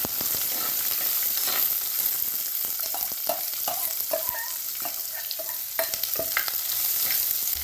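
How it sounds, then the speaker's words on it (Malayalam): Small shallots fry with onions in a pan for drumstick theeyal, a continuous close crackling sizzle punctuated by frequent scraping stirs, with no voices. "കൊച്ചുള്ളി ഇട്ട് കൊടുത്ത് ഒന്ന് വഴലുന്ന വരെ തിളക്കുക"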